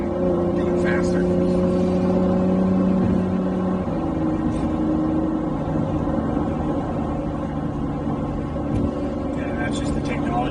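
A 2019 Acura NSX with a dual-clutch 9-speed gearbox drives along, its engine droning steadily with a clear pitch drop at a quick gearshift, a constant moderately loud cabin hum under talking.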